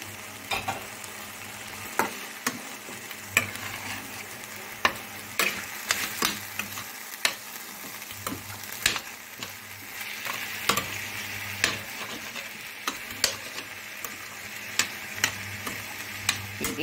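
Eggs fry in a pan before scrambling, a steady close sizzle punctuated by regular sharp ticks and pops throughout, with no talking.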